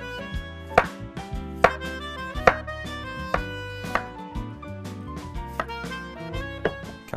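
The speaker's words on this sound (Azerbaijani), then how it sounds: "Kartofları doğradıq, göndəririk suya." Potatoes being chopped with a knife on a board in a home kitchen, a handful of crisp, evenly spaced cuts standing out over a steady bed of background music, with no talking.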